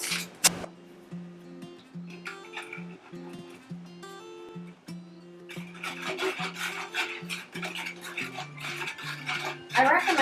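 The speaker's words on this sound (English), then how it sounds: "I recommend putting it in little by little and stirring, just so you don't get lumps" Skim milk being stirred as instant vanilla pudding mix goes in bit by bit, a soft repeated scraping and swishing of a utensil against a bowl that grows busier and denser toward the end, with a steady low hum beneath.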